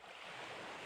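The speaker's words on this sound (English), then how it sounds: "The only sound you hear is the crashing of the waves." Ocean waves wash in Persona 4 Golden as a faint, soft, continuous roar of surf under a breathy wind, lasting under a second with no voices.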